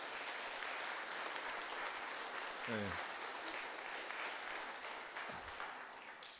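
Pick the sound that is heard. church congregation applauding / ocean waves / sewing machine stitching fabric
church congregation applauding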